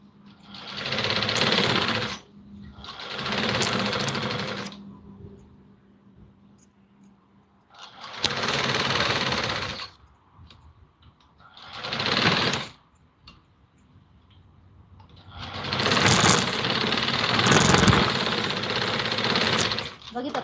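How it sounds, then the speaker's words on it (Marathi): Domestic sewing machine stitching side seams on a Patiala salwar, running in several loud bursts of steady whirring separated by short pauses, with someone talking during the gaps. "याची कडेकडेने एक शिलाई मारून घ्यायची आहे बघा या पद्धतीने इथं या साईडला एक आणि या साईडला एक शिलाई मारायची"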